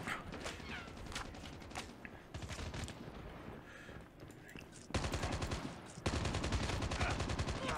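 Rapid bursts of gunfire in Call of Duty Mobile, sometimes single shots and sometimes sustained automatic fire, growing louder and denser toward the end.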